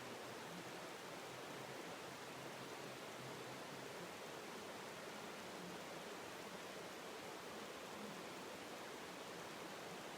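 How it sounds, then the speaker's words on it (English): A small brook trickles past in a grassy meadow, a steady, even wash of flowing water that holds level and close throughout with no breaks or other sounds. "You can hear this little brook,"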